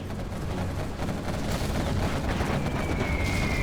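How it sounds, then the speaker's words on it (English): Artillery fire in Command and Conquer: Generals Zero Hour. A dense, continuous rumble of booms and blasts runs for the whole stretch at a steady loud level, with a faint whistle partway through. "I hear the artillery as well"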